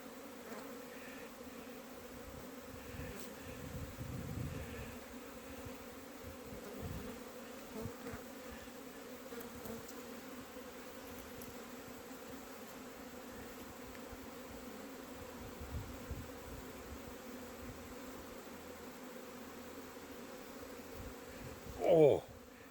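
Honeybees buzz in a steady, close swarm around a beekeeper working the hives outdoors in autumn, a continuous drone with passing louder buzzes near the microphone and a brief sharp sound at the very end.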